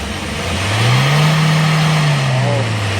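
A Hyundai Porter 2 truck engine with a failed emissions test is revved once, a loud, close rise in engine pitch that holds and then settles back toward idle.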